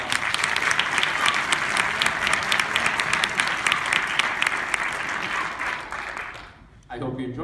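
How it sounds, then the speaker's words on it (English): An audience claps steadily and warmly for several seconds, the applause fading out before a voice starts speaking at the end. "please give them already a round of applause"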